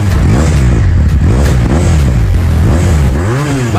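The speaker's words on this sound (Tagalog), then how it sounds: "ito nga ang sounds ng Finja 500cc" A Waying Finja 500cc motorcycle engine revs repeatedly up close, loud and throaty, with rising and falling pitch sweeps in quick succession and a mechanical clatter underneath.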